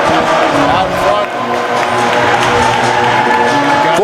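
A crowd cheers and roars at a varsity hockey game between the Lumberjacks and the Red Knights, a steady loud arena noise that holds throughout under the voice of a commentator.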